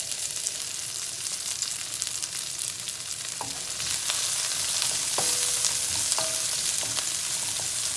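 Garlic sizzles steadily in a pan with onions and peppers, a bright continuous frying hiss with a few light clinks of stirring, close and without talk.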